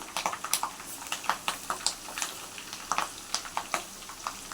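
Hot oil crackles and spits as garlic, curry leaves and chillies fry, with irregular sharp pops over a steady sizzle, close by.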